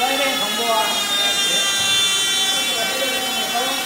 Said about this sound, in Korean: 사이렌 경보와 함께